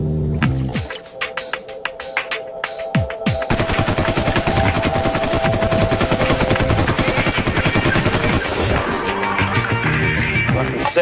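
An HK-416 rifle firing: a few spaced single shots, then long rapid automatic bursts that continue almost without pause, loud and close, with a hard metallic crack and echo throughout.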